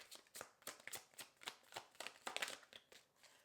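A Wisdom of the Oracle card deck is shuffled by hand in a quick series of about a dozen soft, crisp riffles close to the listener, with no voices.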